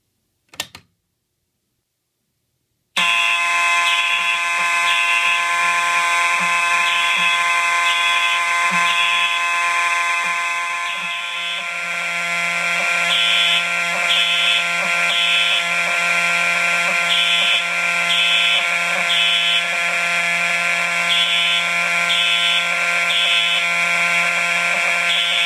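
After a brief click and a few seconds of silence, a Simplex lookalike fire alarm horn triggered from an MS-151 pull station blares loud and continuous, with a steady buzzing tone that never lets up.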